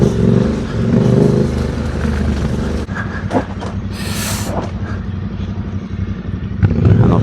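A motorcycle rides off-road over rough ground near the Costa Brava. A steady engine drone carries uneven bumps and rattles and a brief higher whoosh midway, heard close and continuous.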